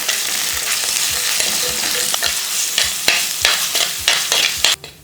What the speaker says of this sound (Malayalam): ഇഞ്ചി വെളുത്തുള്ളി ചതച്ചത്. നല്ലവണ്ണം മൂപ്പിച്ചെടുക്കുക.